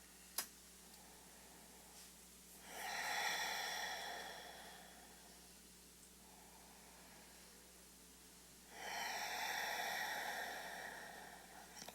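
Slow, deep breathing during a yoga pose: two long, soft airy exhalations several seconds apart, faint and close, over a quiet background with a small click near the start.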